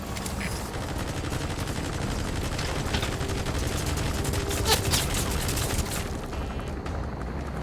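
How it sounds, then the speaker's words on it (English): Overhead shootout with an enemy gunship in Metal Gear Solid V: The Phantom Pain, a dense, continuous barrage of rapid gunfire and rumbling booms that holds steady throughout, with faint voices underneath. "That's an enemy gunship."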